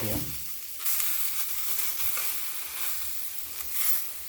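Zucchini slices frying in a dry pan with no oil give a steady soft sizzle and hiss, briefly quieter at the start then continuous and close, with no voices.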